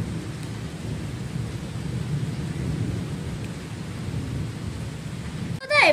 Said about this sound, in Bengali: আমাদের এখানে অবশেষে বৃষ্টি পড়েছে, অনেকই বৃষ্টি পড়েছে